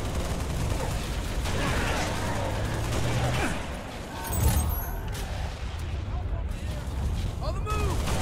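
Gunfire in the Halo Reach video game crackles in bursts over a busy game soundscape, with scattered shots and mechanical clatter at moderate loudness.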